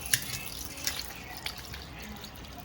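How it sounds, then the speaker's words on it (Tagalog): Liquid from canned fruit cocktail drains out for buko salad, making a soft, steady trickle with a few light drips at close range and no talking. "Tapos ang i-drain naman po natin ay itong fruit cocktail."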